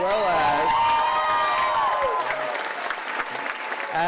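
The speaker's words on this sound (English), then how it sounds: "Let's also give a huge round of applause for our senior class sponsor, Monica Arbalez" Graduates and guests at a high school senior graduation ceremony give a big round of applause for the class sponsor, a loud sustained crowd clapping with some cheering, while a voice speaks over it on a public address system.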